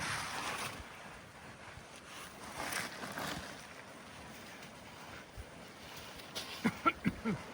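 Wind rushes steadily across an open wheat field in a broad, breathy hiss, swelling slightly at times, with a few soft knocks near the end.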